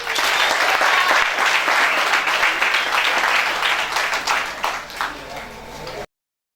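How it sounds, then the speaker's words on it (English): A festival audience applauds steadily, loud and sustained, then the clapping thins and fades out toward the end. "Let's give a round of applause to Stephen Chembo."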